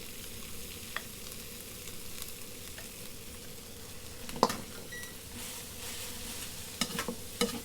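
Basmati rice stirring and frying in a hot pan for vegan egg fried rice, a steady low sizzle with scraping stir strokes and a few sharper clatters near the end, no talking.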